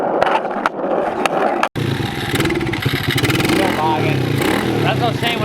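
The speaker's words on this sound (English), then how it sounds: "when I turn it, I lose the throttle, and it just cuts out" Small pit bike engine revving roughly and sputtering while bogging and cutting out, a close, choppy rattle with uneven bursts, and people talk over it.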